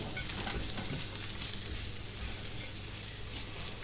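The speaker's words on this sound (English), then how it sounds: "we're just going to fry these until they're a little bit soft and brown" Steady, crackling sizzle of garlic and onions frying in hot oil, continuous and fairly loud throughout, with no voices.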